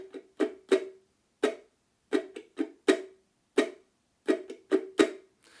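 Thumb roll triple stroke strumming on a stringed instrument, a quarter note followed by a quick triplet and another quarter note, repeated as short percussive clusters, soft and close with no voices.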